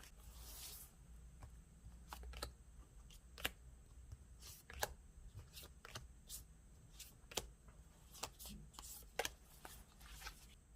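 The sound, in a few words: tarot cards being shuffled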